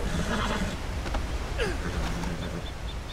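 A freshly tamed wild horse in the Red Dead Redemption 2 video game gives a loud, close whinny with a rising then falling neigh, followed by snorting breaths and a few soft hoof sounds.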